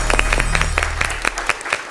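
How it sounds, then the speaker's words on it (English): A studio audience at a televised spelling bee breaks into applause: a short, dense burst of many hands clapping, loud and close, tapering slightly toward the end. "Let's give Aditya a huge round of applause"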